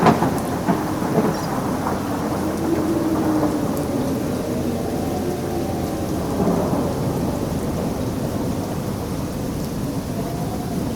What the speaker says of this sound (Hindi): तेज हवा चलने के बाद बारिश इतनी ज़्यादा हुई